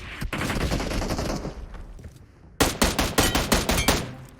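Loud close-range gunfire in PUBG Mobile, with a dense roll of rapid shots in the first two seconds, a short lull, then a run of about eight evenly spaced heavy single shots, no talking.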